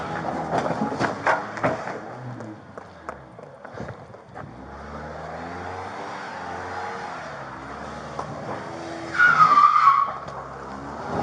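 A car involved in a police confrontation revs and skids as it moves off, and a brief tire squeal rises near the end over steady engine noise and road rumble.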